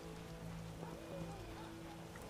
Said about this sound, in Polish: Dawno już tak nie padało.